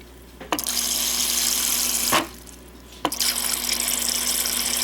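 Tap water runs loudly and steadily into a pot holding eight eggs and ice, with two brief breaks in the flow before it resumes.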